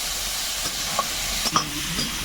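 Shrimp tossed into a pan of frying potatoes, with a steady low sizzle and hiss running throughout, broken by a couple of brief clinks and stirring scrapes.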